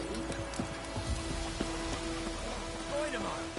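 Steady rain falls in The Witcher 3, a continuous hiss of drops throughout, with a voice speaking over it.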